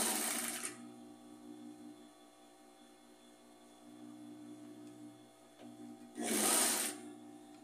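Sewing machine stitching the hem of a round knit-scrap fabric rug, two short quiet bursts at the start and end separated by a low hum.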